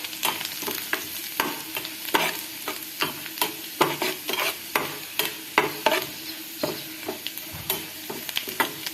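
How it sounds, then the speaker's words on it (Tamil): Almonds being stirred as they fry lightly in a pan, with regular scraping and tapping strokes over a constant gentle sizzle, close up and without voices. "கொஞ்சம் லைட்டா ஃப்ரை ஆனதும் எடுத்துக்கலாம்."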